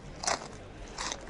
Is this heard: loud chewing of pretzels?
yes